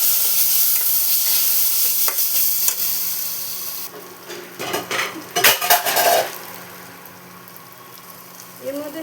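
A spatula scrapes and knocks against a pan as mashed pointed gourd pulp is stirred into a frying filling, with a faint sizzle underneath and a few louder metallic clinks near the middle.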